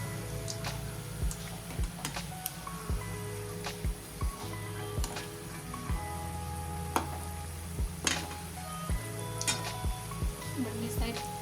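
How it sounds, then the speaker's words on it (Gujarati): Samosas deep fry in oil with a steady sizzle, broken by repeated light clicks and taps of a utensil turning them, moderately loud and close, with no one speaking. "આપણે એકદમ ક્રિસ્પી ગુલાબી રંગના તળવાના છે."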